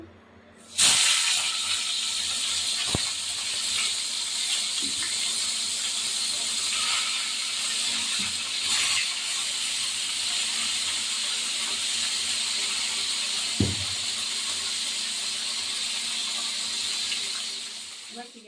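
Salt-and-turmeric-coated tilapia pieces dropped one by one into hot oil, setting off a loud, steady sizzle that holds for most of the stretch, with a few faint knocks from the pan.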